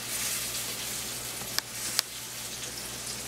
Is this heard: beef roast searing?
yes